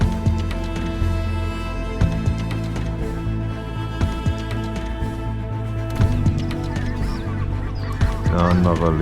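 A flock of geese flies in during a goose hunt in Belarus, their loud, overlapping honks calling continuously and densely, as if many birds are close overhead.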